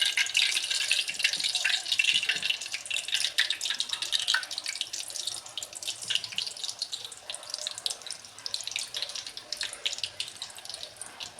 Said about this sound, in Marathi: त्याला तर तेल तापलेलं आहे, तर मी भजी घालून घेते.